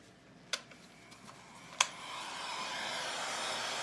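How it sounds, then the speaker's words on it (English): A heat gun blows over an ocean-theme resin coaster, a steady airy whoosh that rises and holds after two sharp clicks, fairly quiet and close, with no talking. "We're going to come in here again with our heat gun"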